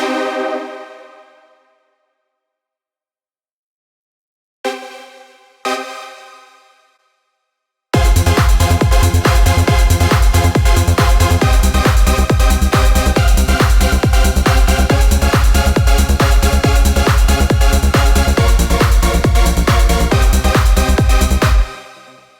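A trance synth chord progression with an added minor chord: a few sustained bright chords ring out and decay, then a loud, dense pulsing synth pattern with deep bass plays steadily for about fourteen seconds before stopping.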